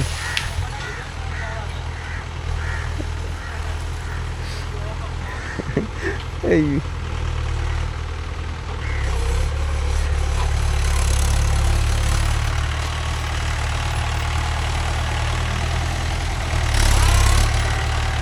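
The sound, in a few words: Mahindra 575 DI tractor engine running while reversing slowly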